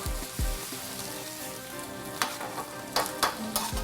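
Veal cooking with a splash of white wine in a pan, a dense steady sizzle with several sharp utensil clinks and scrapes toward the end.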